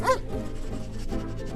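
A puppy in an animated film gives a quick yip at the start, followed by soft whimpering and a low background hum.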